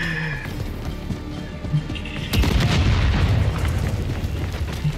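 A grenade explodes in the video game Call of Duty: Modern Warfare 3, a sudden loud boom that cuts through steady game ambience and then rumbles on for a few seconds.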